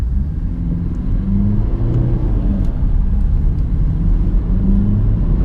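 A 2007 Vauxhall Astra 1.3 CDTi diesel cruising on a motorway, its engine and road noise forming a steady, close interior drone with a low rumble throughout and no talking.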